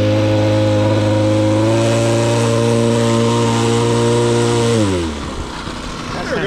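A small four-stroke engine like a string trimmer motor, set up at a site where a new concrete floor is being poured, runs loud and close at a steady idle, then its pitch drops as it slows near the end.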